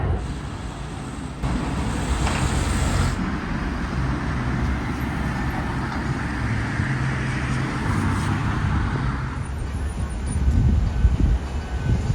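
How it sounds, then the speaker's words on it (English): Underground metro train riding toward People's Square in Harbin, a steady loud rumble and roar of the carriage in motion with rising wheel noise near the end, no talking. "I'm now taking the underground train to People's Square."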